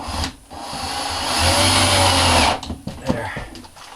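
A power drill drives a screw into an RV in one sustained whirring burst of about a second, followed by a few sharp clicks and knocks from the work.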